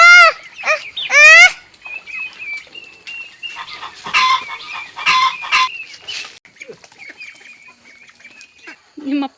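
White chickens cluck, squawk and cackle up close in loud bursts separated by pauses, with some voices of people in between.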